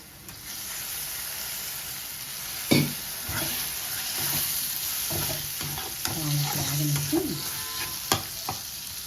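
Curry leaves are stir-fried in a pan for an amaranth, toor dal and coconut powder curry, giving a soft, steady sizzle broken by close scraping and clattering stirs and a few sharp knocks.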